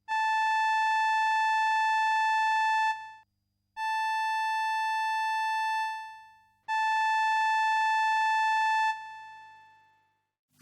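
Three long sustained notes from a vintage string synthesizer's raw oscillators, bright and buzzy with strong overtones, separated by short gaps, each swelling in and tapering off; no talking.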